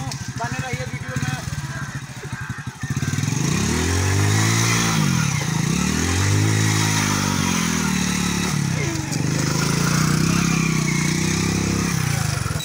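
A motorcycle heard while riding, its engine revving up and down through repeated acceleration swells, loud and close after a brief quieter start with wind noise.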